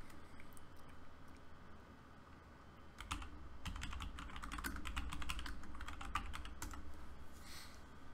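Typing on a computer keyboard, soft rapid key clicks at close range, sparse at first and then a denser run of keystrokes over a low background hum.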